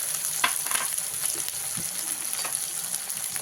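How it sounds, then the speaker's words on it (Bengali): Tomato and turmeric fry in a pan for a raw-banana kofta curry, a steady close sizzle with scattered spoon scrapes and stirring clicks throughout, no voices. "টমেটো দিয়ে ভালো করে ভেজে নেব"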